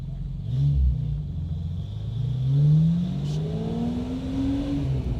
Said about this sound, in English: Sound coming out the exhaust, reverberating off the hills.